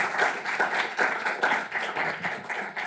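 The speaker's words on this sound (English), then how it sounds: "Big round of applause for our panelists." An audience claps for the panelists at the close of a policy discussion on Venezuela, with rhythmic, moderately loud applause that stays steady for a few seconds.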